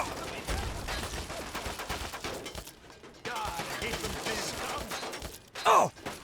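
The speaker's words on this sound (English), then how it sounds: "Logically, the next step is shooting a missile launcher" A missile launcher fires in Fallout 3 amid chaotic, continuous blasts and gunfire, a dense rumbling barrage that briefly drops out before resuming, ending with a loud close explosion.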